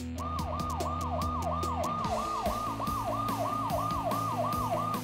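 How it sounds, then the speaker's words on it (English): An electronic fire-truck siren built into a fire truck cake wails in a fast, repeating up-and-down pattern, loud and steady throughout, with a rumbling engine-like drone beneath it and a quick clicking start. "It sounds and looks like a real fire truck."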